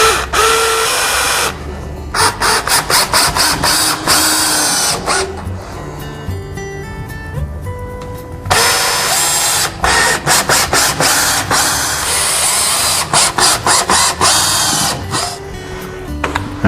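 A power drill driving three-inch screws through a Murphy wall bed stretcher into a wall stud, loud close bursts of whirring and ratcheting separated by short pauses, with no voices.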